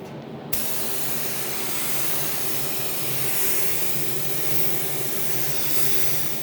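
A spray gun applies Sherwin-Williams aerospace SKYscapes-effect paint at reduced air pressure, starting abruptly and then hissing steadily and loudly close by for several seconds.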